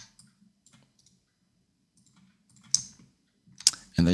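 Computer mouse clicks while working in Blender come as a few faint, sparse taps, then two sharper clicks near the end in a quiet room.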